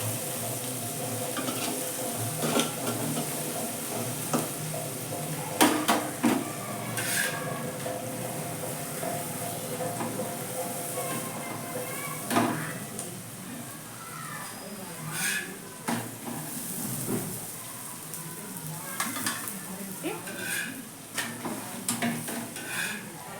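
A chapati fries in a pan beside egg curry with a soft, steady sizzle, broken by occasional scrapes and taps of a utensil against the pan, while someone talks now and then over it.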